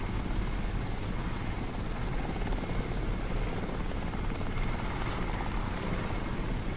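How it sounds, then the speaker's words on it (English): A military helicopter in the shooter game Crysis thunders nearby, its rotor producing a loud, constant chopping roar with heavy low-end rumble and steady high whine, unbroken by speech. "And now they have a helicopter."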